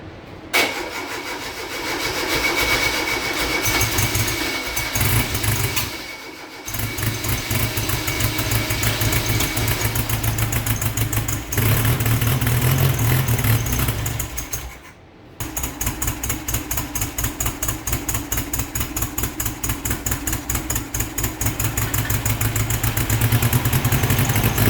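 A 1956 Volkswagen Beetle engine runs steadily on a run stand, a loud continuous air-cooled drone with a brief dip near the start and another around mid-run, then settling into an even, uninterrupted idle.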